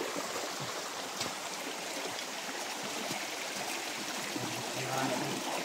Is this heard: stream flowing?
yes